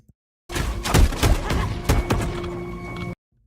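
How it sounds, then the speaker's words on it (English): Several sharp gunshot bursts ring out over a dense, tonal game-style soundscape, with a few heavy thumps in quick succession, loud and close. "You hear the gunshots"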